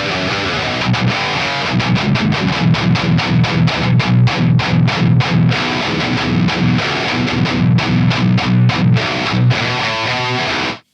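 Distorted electric guitar played through a real amplifier, a loud dense crunch of rhythmic palm-muted chugs and chords that continues steadily throughout.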